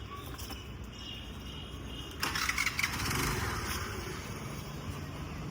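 A Honda Activa scooter engine starting: a steady background hum, then a sudden ignition with a few sputtering bursts that settles into a louder running engine.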